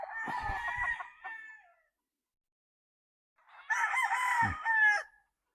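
Two crows from eight-month-old stag roosters, loud and close, the first near the start and the second after a pause of about two seconds, each a long drawn-out call.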